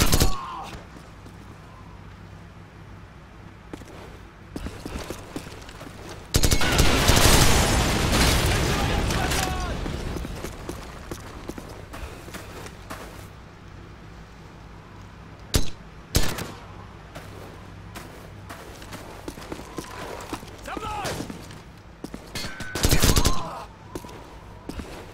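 Rapid gunfire bursts and heavy weapon blasts in Call of Duty 4: Modern Warfare on Veteran difficulty, with a loud sustained barrage early on, scattered sharp shots throughout, and voices calling out over the fighting.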